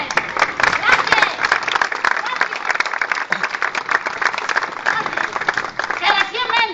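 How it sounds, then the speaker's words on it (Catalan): An audience applauds before a stage performance by a comedy theatre company, with dense, close clapping mixed with voices throughout. "Un aplaudiment!"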